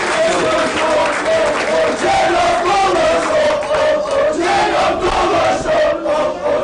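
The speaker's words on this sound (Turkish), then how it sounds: "Bir alkış verelim mi Cenab?" Fenerbahçe supporters at a fan association opening applaud and cheer, loud sustained crowd noise with shouts and clapping throughout, close and energetic.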